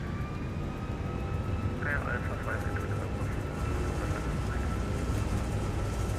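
Airliner jet engines roar steadily during the takeoff roll of a ToLiss A340-600 in the X-Plane 12 flight simulator, a loud continuous rumble with a faint rising whine.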